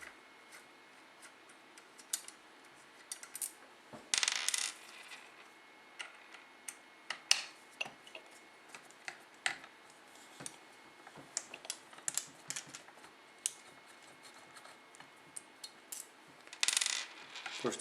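Small steel Allen screws handled during disassembly of an FNAR rifle at the magazine well, giving scattered light metallic clicks, ticks and taps, with a few brief louder rattling clatters, close and otherwise quiet.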